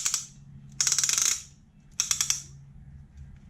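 Piston ring compressor being ratcheted tight around a Honda CRX piston, two close bursts of rapid metallic clicks separated by a short pause, with a faint lower hum beneath.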